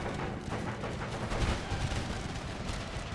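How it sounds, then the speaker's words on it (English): Musket and artillery gunfire from a large line battle in the strategy game Empire Total War: a dense, distant crackle of massed shots with low booms, fairly quiet and continuous. "There's a massive amount of gunfire going down from our lines."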